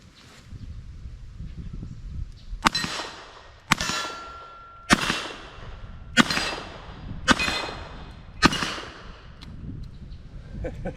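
A Smith & Wesson pre-Model 10 revolver at a shooting range fires six light powder puff wadcutter rounds, each a sharp loud crack with a ringing tail, spaced about a second apart.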